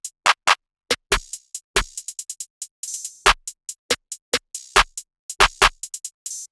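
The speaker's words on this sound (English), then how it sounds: "So after that, I figured out my hi-hat pattern." A simple hi-hat pattern for an ambient beat plays alone: crisp, bright ticks in an uneven bouncing rhythm, with quick rolled bursts and triplet-like clusters between sparser hits.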